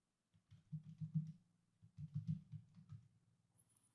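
Quiet keys on a computer keyboard tap in two short bursts of rapid typing separated by a brief pause, heard alone without talk.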